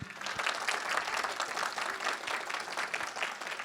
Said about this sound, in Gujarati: આ તમારી તાળી અમારા માટે છે ને